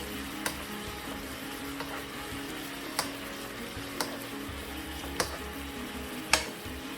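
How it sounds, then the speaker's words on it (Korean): Sesame oil drizzled into a reduced braising sauce with tofu and meat sizzles in a low, steady bubbling, with a few sharp clicks of a utensil against the pan along the way; no one speaks. "자글자글 참기름 한번 쑥 둘러주세요"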